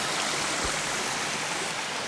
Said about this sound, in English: the water just comes down and down and down and down.